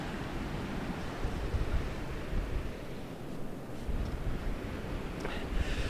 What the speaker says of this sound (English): you can hear the wind, you can hear the sea as well